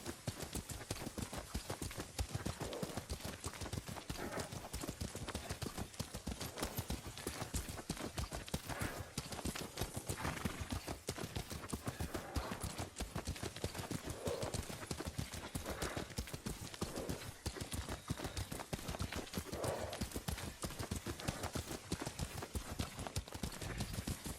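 Steady clip-clop of horse hooves at a trot in the video game Ghost of Tsushima continues throughout, with occasional faint snorts and a brief whinny over a dense, noisy background.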